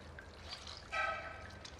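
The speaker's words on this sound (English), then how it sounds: "Add some water into a bowl and rinse the pork in water." Water poured and trickling in a bowl as raw pork is rinsed, a soft liquid splash swelling briefly midway, close and fairly quiet with no talk.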